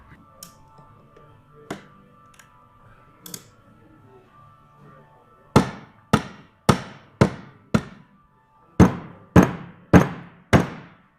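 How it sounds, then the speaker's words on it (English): Ratchet strap being cranked to seat the oil cooler on a 7.3 Power Stroke turbo diesel: a few faint clicks, then a run of sharp, loud ratcheting clacks in two bursts of about five, close by, with no talk. "We're going to reset the ratchet strap."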